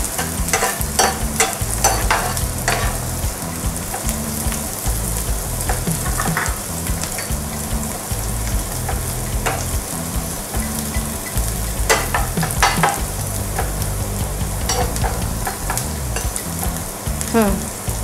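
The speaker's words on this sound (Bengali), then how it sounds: "এটা একটু বেশি একটু ভাজা হয়ে যায়" Masala Maggi ingredients frying and being stirred in a pan, a steady close sizzle broken by repeated scraping clicks of a spoon against the pan, with no talking.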